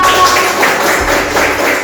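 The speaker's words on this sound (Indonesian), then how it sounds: "Tepuk tangan untuk Yola" A class of students gives a loud, close burst of applause for a classmate named Yola, a thick continuous patter of many hands clapping at once.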